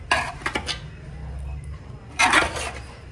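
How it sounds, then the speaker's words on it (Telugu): Plates and cutlery clink while black tuna fish is served, two brief bursts of ceramic and metal clatter, close by, separated by a quiet pause. "మనం ఇప్పుడు ప్లేట్లు వేసుకొని తింటాం."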